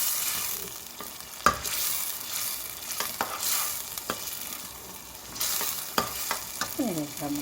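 A spoon stirs thick mutton haleem with cooked lentils in a pot, scraping and sizzling steadily with soft knocks against the pot over about seven seconds.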